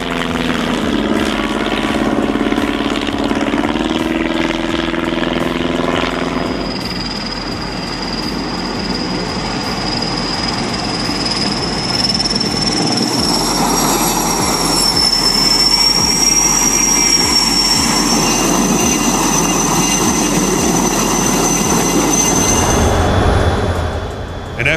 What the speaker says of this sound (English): An F-18 leads a high-speed carrier break, bringing a section of fighters back to the carrier at 500 knots in a tight, precise maneuver